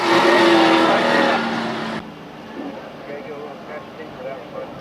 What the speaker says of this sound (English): Your 4th place car coming around turn number 4 as we speak.